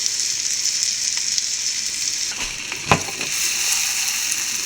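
Eggs fry in a pan for egg biryani, a loud, steady sizzle with a brief scrape and soft thump as they are flipped partway through.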